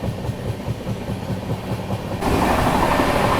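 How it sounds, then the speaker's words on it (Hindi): The Poorvottar Sampark Kranti, hauled by two locomotives, runs at 130 km/h on the Delhi–Guwahati route, a loud steady rumble and rattle heard from on board that grows louder and harsher partway through. "अभी अपनी ट्रेन चल रही है फ्लैट 130 की स्पीड में"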